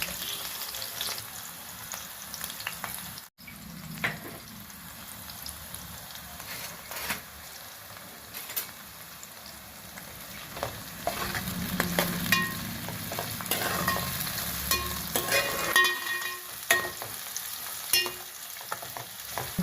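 Mustard seeds, chopped onion and green chillies frying in hot oil in a pan for an Andhra fish curry, with a steady close sizzle and crackle, brief stirring scrapes and no voices.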